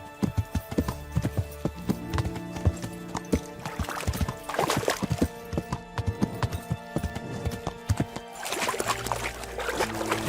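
Horse hooves clip-clop steadily on hard ground in the medieval game Kingdom Come: Deliverance, a rhythmic trot that carries across the whole stretch, with a horse's whinny rising near the end.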